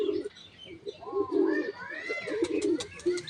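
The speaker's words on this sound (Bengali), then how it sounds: "কত সুন্দর পায়রা দেখুন" Pigeons coo softly in several low, rolling phrases, joined by a few bright chirps, with faint voices in the background.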